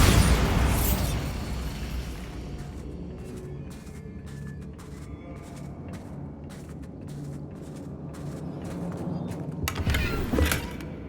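In the Hogwarts Legacy video game, a Bombarda blast spell fires as a loud booming burst. Crackling debris and a rumbling tail follow, then a second sharp blast arrives near the end.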